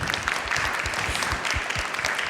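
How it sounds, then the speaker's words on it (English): Audience at an Internet of Things panel at a 2017 tech conference applauds the panelists: continuous, full clapping from many hands, lively and close, with soft thumps running underneath. "let's give a round of applause to the panelists"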